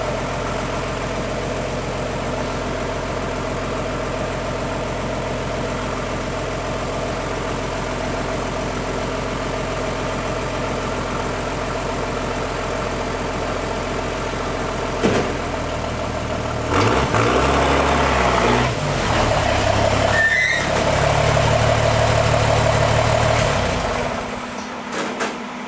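An old Chevy truck engine idles steadily on a chilly day with a deep, even rumble, then rises and roughens as the engine is revved toward the end.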